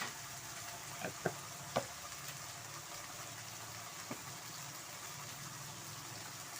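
Moringa leaf paste with turmeric powder and salt fries in a pan as a low, steady sizzle, with a few sharp clicks of a utensil against the pan near the start and once later; no talking.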